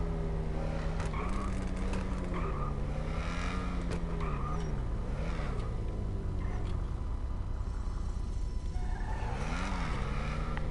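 A Jaguar-style Ocelot car in GTA Online drives with its engine rising and falling in pitch through gear changes, revving loudly and continuously up close, with brief tire squeals, and no voices.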